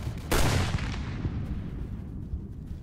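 Sniper rifle fire in the video game Unit 1968: one sharp, loud report with a long rolling echo that fades out over a couple of seconds.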